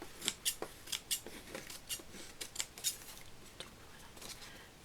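Scissors snipping paper for a handmade princess castle card, a quick irregular series of close, crisp cuts with short pauses between, and no talking.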